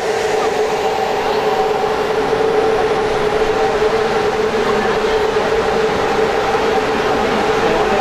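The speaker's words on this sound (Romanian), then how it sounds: "Trenul regal a plecat duminică din gara Băneasa" Royal train with a modern locomotive running between Bucharest's Băneasa station and Alba Iulia. It gives a loud, steady rumble and rolling hum of rail travel that stays constant throughout, with no clear talk.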